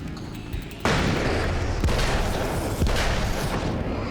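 A flashbang detonates in the Alan Wake's American Nightmare video game, a sudden loud blast followed by sustained roaring noise and two further sharp bangs, all close and dense with no talk.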